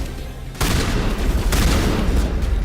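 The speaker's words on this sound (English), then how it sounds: "Shotgun." Shotgun fire in a 2007 space RPG video game: a heavy blast hits suddenly, then a second boom follows a second later, with rumbling battle noise sustained underneath and no clear talk.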